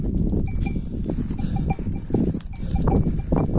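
A flock of sheep bleats while bells clank and jingle steadily among them, the animals moving close by as the herd is driven home.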